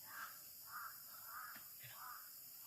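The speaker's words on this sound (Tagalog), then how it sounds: "Uwak naman." Crows caw in a rhythmic series of four or five harsh calls, moderately distant and faint over a quiet outdoor background.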